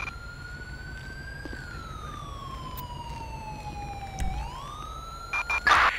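A wailing police-style siren from an emergency vehicle in Grand Theft Auto 5, sweeping slowly up and down, loud and steady throughout with a few brief knocks near the end.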